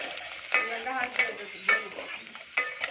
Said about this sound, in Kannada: ಕರಿಬೇವು ಹಾಕಿ ನಂತರ ಈರುಳ್ಳಿಯನ್ನು ಸೇರಿಸಬೇಕು. ಈರುಳ್ಳಿ ಚೆನ್ನಾಗಿ ಫ್ರೈ ಆಗುವವರೆಗೆ